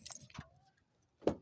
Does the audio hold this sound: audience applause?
no